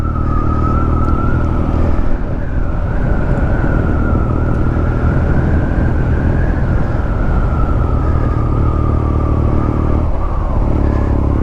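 A 2020 BMW R nineT Scrambler motorcycle is ridden along a road near Sedona toward the Chapel of the Holy Cross, giving a steady, loud engine drone mixed with rushing wind noise that holds throughout without pause.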